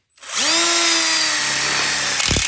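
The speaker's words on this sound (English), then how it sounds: "Now we'll go ahead and lock this in with screws with no vice clamp needed." A power drill drives a screw into a ConnecTubes frame for an outdoor kitchen smoker module, whining up quickly and holding a loud steady pitch before a few brief clicks and rattles at the end.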